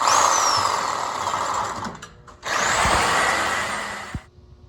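A power cutting tool whines loudly in two long bursts while cutting the fender of a 1972 Peterbilt truck, winding down between cuts and ending with a metallic clank.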